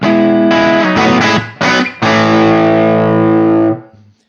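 An electric guitar on a 2022 Gibson Trad Pro V with Custombucker pickups, played through the neck pickup with heavy distortion, strikes a few loud, choppy chords before one long ringing chord that sustains and then cuts off.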